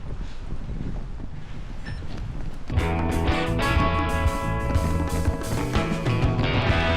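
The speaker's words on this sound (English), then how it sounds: "It's windy. The boards are creaking." Steady gusting wind roars across the microphone, with creaking and clattering tones of wooden boards entering midway and continuing to the end.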